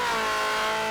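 A drag racing car revs hard at the start line, a loud, sustained, buzzing engine note that fills the whole second without a break or any voices.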